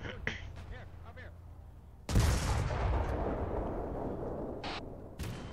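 Gunfire in a WW2 video game set in the Norwegian campaign: a few sharp shots, then a sudden loud blast that rolls into sustained heavy rumbling and crackle, with another crack near the end.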